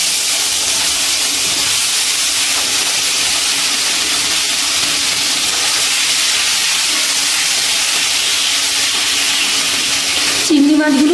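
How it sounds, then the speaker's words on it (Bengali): Prawns coated in salt and turmeric frying in hot oil give a steady, loud, close sizzle and hiss that runs throughout, with a brief clatter near the end. "এবার আমি নুন হলুদ মাখিয়ে রাখা চিংড়ি মাছগুলো ভেজে নেব।"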